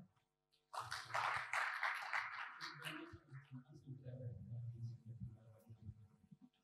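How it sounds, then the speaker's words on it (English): Applause from a conference audience for panelists and an interviewer rises suddenly and fills about two seconds, then thins out as voices and chatter take over beneath it. "please give a round of applause to our panelists and our interviewer"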